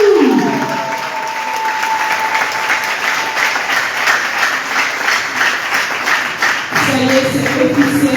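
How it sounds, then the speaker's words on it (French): Guests at a civil wedding ceremony applaud the newlyweds, loud dense clapping that holds steady for several seconds before an officiant's voice returns at the end. "On les applaudit."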